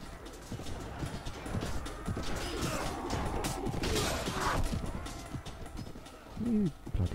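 Horse hooves clip-clopping in the Mount and Blade Warband A Clash of Kings mod during a battle against a shield wall formation, a busy rhythmic clatter of hoofbeats amid clashing combat noise, with a few louder knocks near the end.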